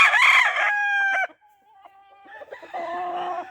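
A rooster on a farm crows loudly and close by, one long drawn-out call, followed by softer clucking and a second rising crow near the end.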